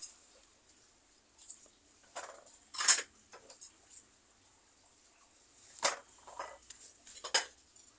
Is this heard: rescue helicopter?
no